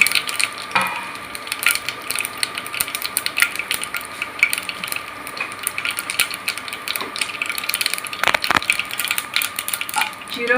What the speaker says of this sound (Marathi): आता मोहरी फुलली की आपण त्याच्यात जिरं घालूया।